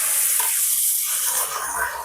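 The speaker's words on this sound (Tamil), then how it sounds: "இப்போ வந்து நாங்க தண்ணியை ஊத்தி கொடுவோம்." Water pours into a pot of chickpeas, a loud, close rushing splash that runs steadily and eases slightly toward the end.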